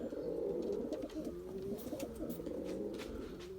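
Pigeons coo softly in the distance, a few low calls coming over a faint outdoor background while young white birds fly high overhead; no one speaks.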